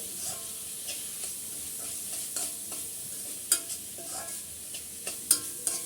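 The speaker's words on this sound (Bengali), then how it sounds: "ভালো করে মশলার সাথে আমি মিক্স করে নিছি" Chicken coated in spices and black pepper is stirred in a pan for a homemade bun recipe, with soft scraping strokes and light sizzling and a few sharper clinks of the spoon against the pan.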